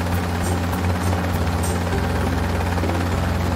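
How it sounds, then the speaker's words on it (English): A cartoon helicopter flies away in a children's animated train show, its steady rotor drone and buzz continuing evenly at a moderate level throughout, with no talking. "Look at the helicopter fly away."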